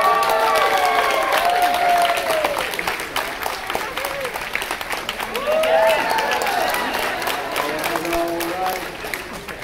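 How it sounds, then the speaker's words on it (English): A crowd at a cosplay contest applauds, with continuous clapping, scattered cheers and overlapping voices filling the hall throughout. "Round of applause for Xander."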